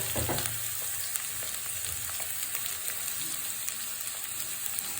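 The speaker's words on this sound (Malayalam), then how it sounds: "വറ്റൽമുളകിനോടൊപ്പം തന്നെ കറിവേപ്പിലയും ഇട്ട് കൊടുക്കാം. എന്നിട്ട് നമുക്ക് സവാള ഇട്ട് കൊടുക്കാം." Onion goes into hot oil with dried red chillies and curry leaves for pepper beef, giving a steady close sizzle with light stirring scrapes and no talking.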